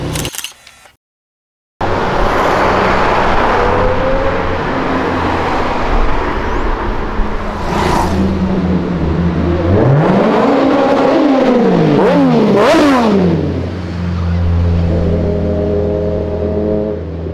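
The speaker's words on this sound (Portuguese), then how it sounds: "vocês viram o cortador de grama e uma moto passando aqui" A lawnmower and then a motorcycle pass by on a street, their engine drones rising and falling with pitch sweeps as each goes past, loud and close, with a steady motor hum continuing underneath.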